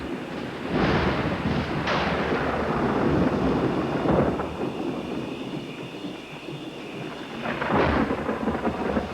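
Rolling thunder rumbles through a storm with rain. Several loud, deep booms build and fade over about nine seconds, and nobody speaks.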